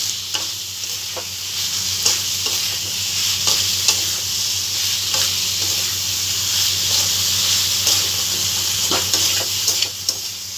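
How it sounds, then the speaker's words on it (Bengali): Spice paste frying in oil for a gourd and prawn curry, a steady loud sizzle and hiss with soft scraping stirs of a spoon throughout, no voices. "ভালোভাবে মশলাটাকে কষিয়ে নিই।"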